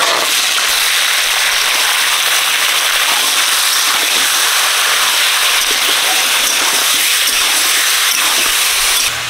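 Prawns frying in hot mustard oil, a loud dense hissing sizzle with rapid crackles and spits that holds steady throughout, close up and alone.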